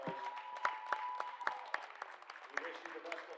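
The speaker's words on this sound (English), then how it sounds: "Let's give them one more round of applause." Applause for sophomores at a college basketball game, with scattered claps from a modest crowd heard fairly faintly at a distance and a voice talking over them.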